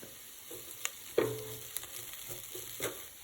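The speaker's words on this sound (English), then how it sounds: "I'm now going to add the garlic and cook it for another 30 seconds." Garlic added to a pot of vegan Zuppa Toscana soup, a quiet, sparse sizzle with a few sharp utensil clicks and soft stirring scrapes, no talk.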